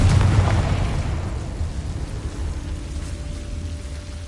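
A Confringo explosive spell cast in Hogwarts Legacy goes off as a loud, deep blast. It gives way to a long, noisy rumble and crackle that slowly fades while a faint steady tone lingers, with no voices heard.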